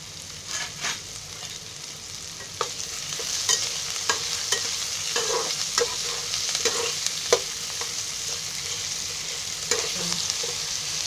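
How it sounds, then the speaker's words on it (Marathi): Chopped onion with a pinch of salt frying in a pan, a steady close sizzle with intermittent scraping and stirring clinks throughout. "हा कांदा आहे ना पूर्ण लाल होईपर्यंत भाजायचा आहे."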